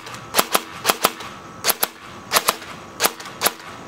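A Tokyo Marui M733 Commando airsoft gun fires on semi-auto, about a dozen crisp, snappy shots in pairs and uneven rhythm, close and clear, with no talking.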